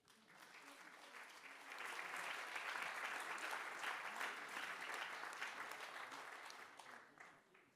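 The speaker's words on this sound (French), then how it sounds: "Merci d'applaudir Frédéric Lemaître." Applause from a conference audience greets a university lecturer and researcher as he is introduced, building quickly to sustained, even clapping and tapering off near the end.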